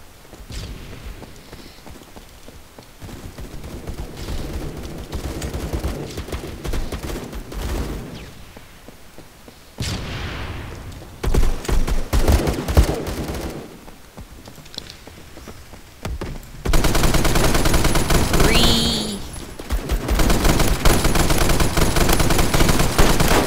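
Gunfire in the Roblox shooter game Phantom Forces: sustained bursts of automatic weapon fire, loud and dense, growing heavier and more continuous toward the end, with no talk over it.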